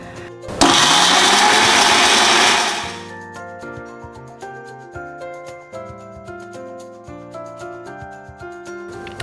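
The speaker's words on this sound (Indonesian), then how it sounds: "tambahkan juga minyak kelapa ke dalam blender agar semua bahan menyatu dan turun ke permukaan pisau blender" An electric blender grinds shallots, garlic and coconut oil in a loud, steady whir that runs for about two seconds and then stops abruptly, followed by soft background music.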